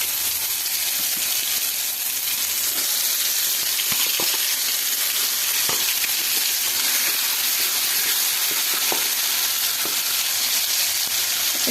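Mustard masala paste frying in hot oil with black cumin, for a raw hilsa fish curry, sizzling steadily and loudly throughout with occasional sharp crackles and pops and no voices.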